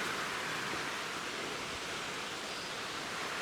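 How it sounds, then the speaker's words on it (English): A steady, soft rush of flowing water carries on without a break, faint and even, like a creek heard from some distance below a trail along Seneca Creek. "the creek's still down there and you can hear it"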